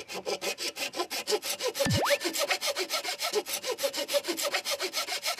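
A hand saw cuts through a bamboo stalk to make a vessel for steaming pork belly, with rapid, even back-and-forth strokes that are close and loud throughout.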